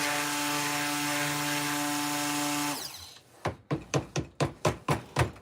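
A handheld stick blender runs steadily to mix gold-coloured soap batter, then cuts out into a series of about eight short, regular pulsed bursts, close and loud with no voices.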